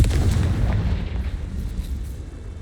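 A Confringo spell blast in Hogwarts Legacy erupts as a deep, rumbling explosion that booms loudly at first and then rolls off into a long, low fading tail.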